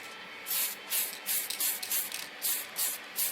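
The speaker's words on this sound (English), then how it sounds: "I will go over these guys with some Mr. Super Clear Gloss. This is lacquer based." Mr. Super Clear Gloss lacquer-based clear coat sprayed onto plastic model kit parts, a series of close, loud airy hissing bursts, about eight short pulses with brief gaps between them.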